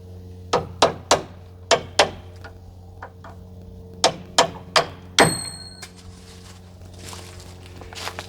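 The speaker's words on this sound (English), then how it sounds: "I'm using an old screwdriver and a hammer." Hammer tapping an old screwdriver to drive a bolt out during a solar panel overhaul, with sharp metallic taps in short bursts of two or three, close and loud, ending in a ringing strike.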